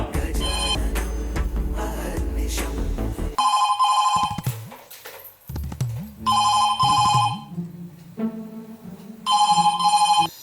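A telephone bell rings in loud repeated bursts with short pauses between them, following a stretch of busy music at the start.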